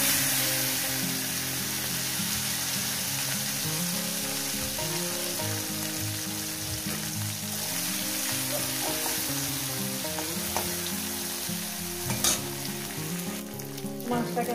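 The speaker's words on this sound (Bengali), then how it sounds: "মাছগুলো আমি প্রথমে ভেজে নেব।" Small river fish fry in hot oil, giving a continuous loud sizzle that runs steadily throughout, with occasional sharper crackles and pops near the end and no voices.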